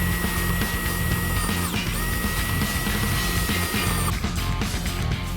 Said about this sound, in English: I'm just gonna drill in now